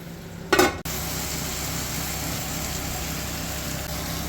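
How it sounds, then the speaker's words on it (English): Onion, zucchini and mushroom sauté in an oiled frying pan, giving a steady, even sizzle throughout, broken near the start by a brief clatter of stirring. "onion, let it saute, zucchini, mushroom"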